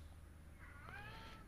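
A cat meows faintly in the background during a car mechanic simulator game session, a single soft rising call with short overtone sweeps over quiet room noise.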